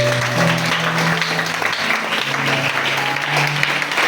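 A church congregation applauds and cheers loudly and steadily throughout, a dense wash of clapping with a sustained tone running beneath it.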